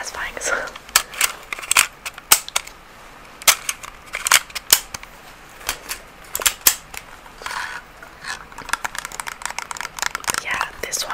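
A Doctor Who toy sonic screwdriver gives off sharp repeated clicks and short electronic bursts at an uneven rhythm, close and crisp, between soft whispered talk.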